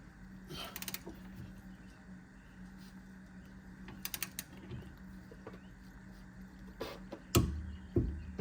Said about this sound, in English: Now we have to torque this one to 40 foot-pounds.